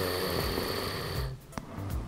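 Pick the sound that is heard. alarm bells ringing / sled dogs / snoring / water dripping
snoring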